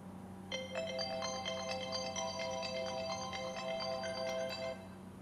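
A phone ringtone chimes in a repeating melodic pattern for about four seconds over a low steady hum, then stops abruptly as the call is muted by tapping a watch face.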